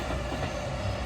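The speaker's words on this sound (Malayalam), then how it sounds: "അടിപൊളി ട്രെയിൻ പോകുന്നത് കാണാൻ പറ്റും." A Japanese train passes close by with a steady, broadband rumble and rushing roar that holds level for about a second, no voices present.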